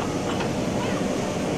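Steam train hauling four red passenger carriages in Ecuador gives off a dense, continuous rolling rumble and hiss, steady and close throughout.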